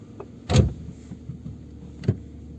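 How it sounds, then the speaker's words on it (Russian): A rear seat backrest in a Peugeot 407 slams shut with one firm, close thud, and a softer second knock follows about a second and a half later in a quiet cabin. "и захлопываем потом спинку"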